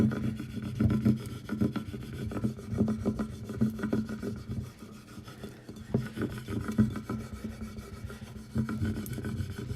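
A scraper rubs Cricut vinyl decal down onto a water bottle, making continuous quiet, close, scratchy strokes in a steady back-and-forth rhythm.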